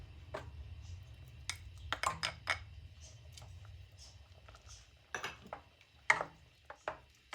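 A spoon clinks against a pot as aşure with dried apricots and raisins is stirred, giving scattered light metallic taps and scrapes in an irregular rhythm over a quiet kitchen background.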